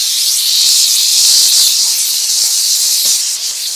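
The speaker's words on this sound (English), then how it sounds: "I'm going to use the steam cleaner and see what happens." A Flgocexs steam cleaner blows a loud, steady hiss of steam continuously, bright and close, with slight surges and a small dip near the end.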